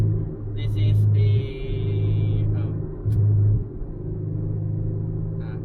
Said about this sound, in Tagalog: cabin sound using N1 tie copy muffler